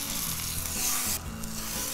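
A spiced rack of lamb sears in a hot pan, giving a loud, steady, close sizzle and crackle throughout, with no voices.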